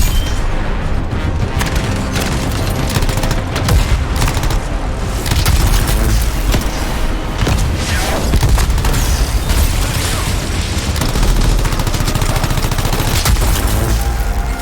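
Cover fire from weapons in the sci-fi shooter Anthem, a dense, continuous barrage of gunshots and booms that stays loud and steady with no pauses, with no talk over it.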